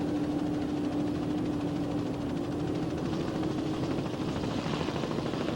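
A helicopter hovers over the start of an offshore powerboat race in Grand Haven, Michigan, its rotor and engine making a steady, dense throbbing drone with no voices.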